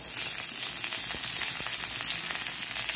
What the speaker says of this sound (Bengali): এবার এই মাছ ভাজার তেলেই আমি পাঁচফোড়ন দিলাম